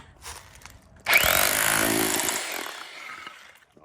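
A cheap rotary hammer drill starts abruptly and runs loud and close for about two seconds with a harsh, buzzing whine, then winds down to silence.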